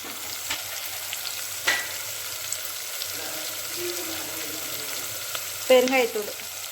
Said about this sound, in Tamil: இப்போ நல்லா தக்காளி நல்லா வதங்கட்டும்